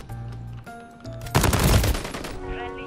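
RAAL light machine gun from Call of Duty: Modern Warfare fires a dense, loud burst in the middle of the clip, preceded by quieter game tones and hum, with the burst's rattle trailing off toward the end.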